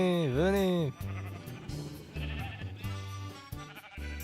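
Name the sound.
sheep bleating in Minecraft video game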